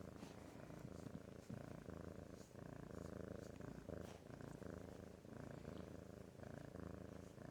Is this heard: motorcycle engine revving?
no